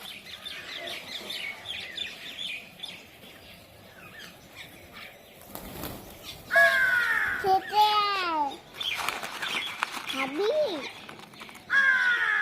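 Crows caw loudly and repeatedly at close range on a rooftop as they are fed in the morning, harsh calls coming in bursts over a background of other birds, with people talking now and then.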